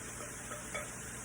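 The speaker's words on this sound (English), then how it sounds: "I'm going to go ahead and put our cabbage in" Shredded cabbage lands in a hot frying pan and sizzles, giving a faint, steady hiss for a brief moment with no voices.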